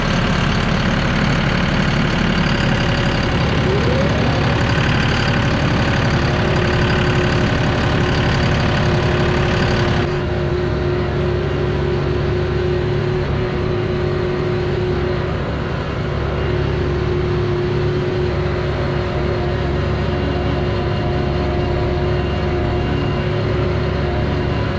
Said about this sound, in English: our customer has a tractor with forklift attachment